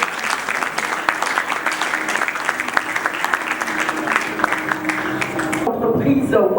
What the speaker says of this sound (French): Mesdames et messieurs, pouvons-nous applaudir